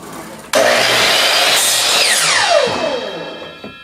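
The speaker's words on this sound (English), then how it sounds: "This lovely miter saw" A miter saw starts abruptly and cuts through wood, a loud close whine with a grinding bite that winds down in a falling pitch as the blade spins to a stop.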